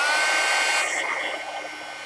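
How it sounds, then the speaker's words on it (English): A heat tool blows hot air onto a painted stencil piece, giving a steady loud whooshing hiss that eases slightly partway through and carries on alone without talk. "I'm going to blow a little heat on here."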